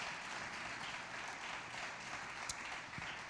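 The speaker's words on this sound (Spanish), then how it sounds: "vamos, dale un aplauso al Señor." Church congregation applauds during a sermon, a faint, steady wash of clapping heard at a distance throughout.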